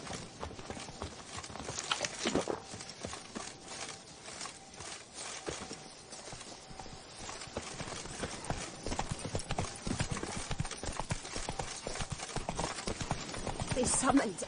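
Hooves of the horse Roach in a video game, a fast steady clip-clop of galloping near and clear over open ground, continuing throughout with voices talking briefly over it.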